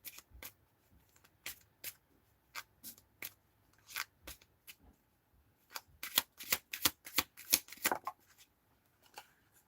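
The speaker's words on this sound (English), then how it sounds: "Shuffle." Tarot cards being shuffled by hand, crisp papery riffles and slaps in irregular bursts, sparse at first then a dense flurry near the end, close and fairly quiet with no talking.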